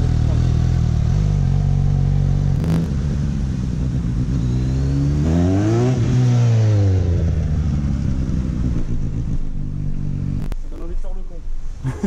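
A motorcycle engine at a riding school revs in throttle blips, pitch climbing and falling in a smooth arc, loud and close with a steady mechanical rumble underneath.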